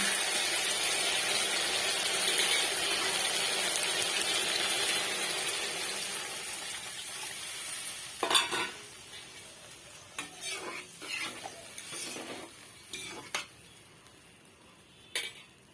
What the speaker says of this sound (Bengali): এখন আমি এর মধ্যে দিয়ে দেব পরিমাণ মতো জল।